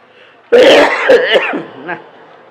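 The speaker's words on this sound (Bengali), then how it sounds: "কাশিটা তো বন্ধই হচ্ছে না কি" A person coughs and clears their throat during a religious sermon: one harsh, close burst lasting about a second, followed by a rougher trailing hack, with quiet around it.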